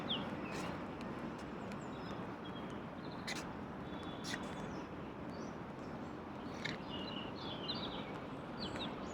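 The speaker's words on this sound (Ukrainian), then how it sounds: "Ви можете чути спів пташок, які співають свої пісні." Birds singing near the sea and port in Venice under an overcast sky, scattered faint chirps and short calls over a steady background hiss.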